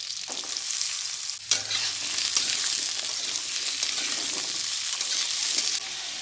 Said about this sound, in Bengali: এবার একে একে পেঁপের টুকরো আর আলুর টুকরোগুলো একসাথে দিয়ে সুন্দর করে লাল লাল করে ভেজে নেব।